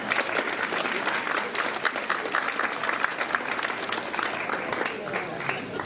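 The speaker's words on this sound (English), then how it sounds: "Applaud your children." An audience at a grades 2–6 school Christmas concert applauding the children, a dense, steady wash of many hands clapping throughout, with crowd noise and voices mixed in.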